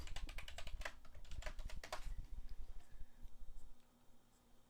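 Password being typed on a computer keyboard, a quick close run of light key clicks that thins out into a few scattered taps before stopping.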